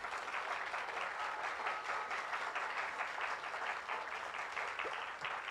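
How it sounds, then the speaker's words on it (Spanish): Steady audience applause for a guest speaker at a Spanish-language talk session, a dense even wash of many hands clapping at moderate distance that fills the whole stretch without pause. "para quien pido un fuerte aplauso"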